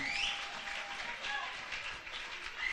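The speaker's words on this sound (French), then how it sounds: "Clap the hands for the word of the Lord" A church congregation claps hands together in a dense, continuous wash of applause, with a voice speaking over the crowd.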